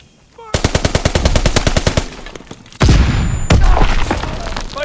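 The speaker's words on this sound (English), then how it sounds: "Fighter pilot inbound. Strafing the target." A fighter plane strafing with machine guns in Call of Duty: WWII: a loud, rapid, evenly paced burst of shots, then a heavy boom and a sustained roaring rumble of gunfire and impacts.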